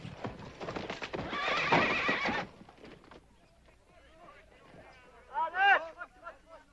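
In a scene from the western series Bonanza, a horse's hooves clatter quickly nearby under murmuring voices, then the hooves slow and a loud whinny rings out toward the end.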